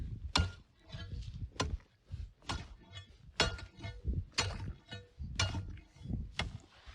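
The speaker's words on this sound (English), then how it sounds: "Next, you're going to take your ice chisel and just make a small hole." An ice chisel strikes winter lake ice to chop a small hole, a series of about ten sharp, crunchy impacts at an uneven pace, close by, with scraping and chipping between blows.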